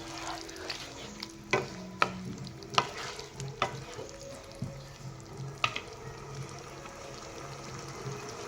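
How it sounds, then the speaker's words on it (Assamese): Chicken and cauliflower curry with added water simmering in a pan, a low steady bubbling bed broken by several sharp scrapes and clinks of a spoon stirring against the metal. "মই উতলিব দিম ভালদৰে।"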